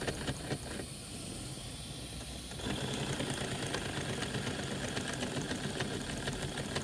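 A small gas-fired Mamod model steam engine runs steadily with a continuous mechanical chatter and hiss, growing louder and busier partway through as it picks up.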